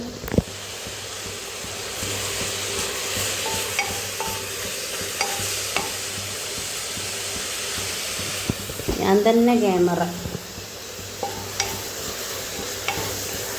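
Steady sizzling of onions frying with spices in a pan, stirring scrapes throughout, and a brief voice speaking near the end.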